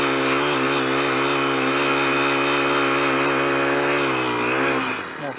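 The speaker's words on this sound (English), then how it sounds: "I'm quite fond of this little tiller." A small garden tiller with a Honda engine runs steadily and loudly close by, a constant mechanical drone with even harmonics, then cuts off at the very end.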